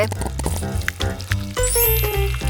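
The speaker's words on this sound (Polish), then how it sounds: "Najpierw musimy usmażyć bułeczki." Buns sizzle and crackle frying in a hot pan, with a bright hiss rising toward the end, close and fairly loud.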